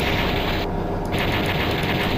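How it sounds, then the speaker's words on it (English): Rapid chaingunner gunfire in the video game Doom, a dense continuous burst of shots with a brief dip in the middle, loud and close with no talking. "Just methodically snipe these chain gunners."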